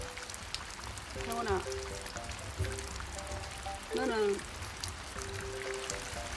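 Steady rain falls as an even background hiss while a voice talks over it in short phrases, with a couple of brief louder bursts.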